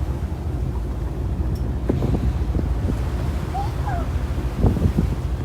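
Wind buffets the microphone over steady ocean surf aboard a whale and dolphin watching boat, a continuous rushing wash with brief water splashes and faint distant voices.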